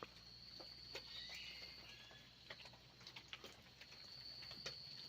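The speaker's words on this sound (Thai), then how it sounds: "มีตัวนก2-3ตัวมาฮ้องม่วนอีเสียงมัน" A few birds call in a misty forest, faint intermittent chirps scattered over a steady insect-like hiss, with no talking.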